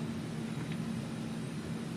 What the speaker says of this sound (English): You can hear the traffic noise in the background.